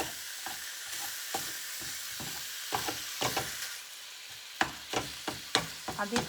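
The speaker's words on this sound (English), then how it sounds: "So we just brown the beef" Ground beef browns in a pan for lasagna, with soft sizzling and frying under repeated scrapes and stirring strokes of a utensil, quiet and close.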